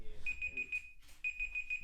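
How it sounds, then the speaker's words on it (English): A household smoke alarm beeping in a steady run of short, high, piercing chirps, pausing briefly before the same quick series repeats, fairly clear over low room noise. "The smoke alarm? Yeah, that's it."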